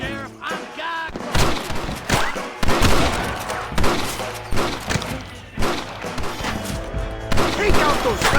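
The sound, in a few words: gunfire in the video game Red Dead Redemption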